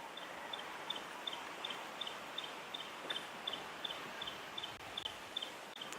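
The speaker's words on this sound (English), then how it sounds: "You can actually hear Steerling's wren warbler calling in the background." A Stierling's wren-warbler repeats a high, evenly spaced call over and over against steady background hiss, faint and somewhat distant, at sunset on safari.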